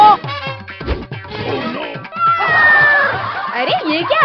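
A cartoon cat meows and caterwauls in a loud, stretched, wavering cry, mixed with excited chatter and comic sound effects in a desi comedy scene where a bear has turned into a cat.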